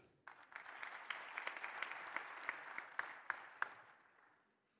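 Audience applause at a national industry day panel in Benguerir, a dense crowd clapping that starts abruptly, holds steady for several seconds with a few sharper claps standing out, then fades away at the end.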